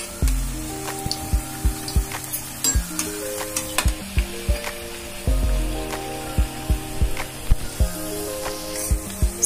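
Mangalore bonda batter sizzles in hot oil on a medium flame, a steady frying crackle broken by repeated sharp stirring and scraping knocks from a utensil at an uneven rhythm.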